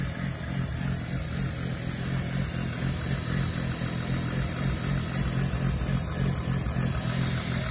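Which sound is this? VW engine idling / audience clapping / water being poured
VW engine idling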